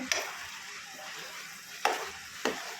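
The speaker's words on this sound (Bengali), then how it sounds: "এটা আরও লাল করে ভেজে দিতে হবে" Grated coconut fries in its own oil until it browns, giving a low, steady sizzle broken by three sharp scrapes or knocks of a spoon against the pan, quiet and close.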